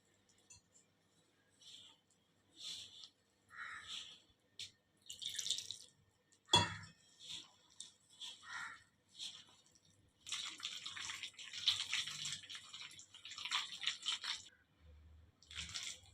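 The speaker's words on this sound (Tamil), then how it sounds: "இப்போ இதில் வந்து கொஞ்சம் கொஞ்சமாக தண்ணி சேர்த்துக்கலாம்" Water is added bit by bit to a breakfast batter while it is stirred, making intermittent splashes and wet sloshing in short bursts, close by, with quiet gaps between pours.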